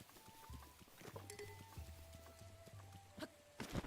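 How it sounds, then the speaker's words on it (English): Horse hooves clip-clop steadily in a Zelda video game as a rider travels, a soft rhythmic patter of hoofbeats heard close and fairly faint, with a few brief higher tones mixed in. "We'll ride the horse up there."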